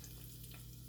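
Chopped onion sizzles as it hits hot oil in a pan for efo riro, a soft, continuous frying crackle over a low steady hum.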